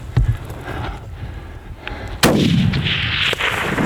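A rifle shot fired at an elk during a Montana general-season hunt cracks out sharply and loud, followed by a rolling, decaying boom that echoes across open country, with fainter background noise before it.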